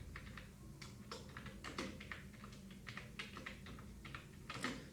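Quiet, soft keystrokes on a computer keyboard clatter in irregular bursts while someone types in a spreadsheet.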